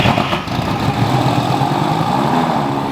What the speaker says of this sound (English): the exhaust leak is getting worse by the second. You can hear the pattering sound.